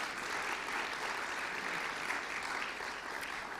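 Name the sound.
audience applause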